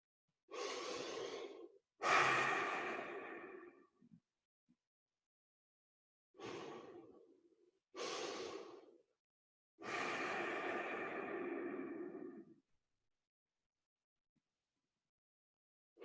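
Slow, deep breathing during a qigong exercise, five long audible inhales and exhales separated by pauses where the breath is held, close and soft with silence between.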